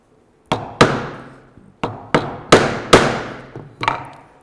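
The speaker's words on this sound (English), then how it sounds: "Get my half circle chisel," A mallet strikes a half-circle woodcarving chisel while carving a shell shape in wood, giving about eight sharp, close knocks at an irregular pace, each ringing briefly before the next.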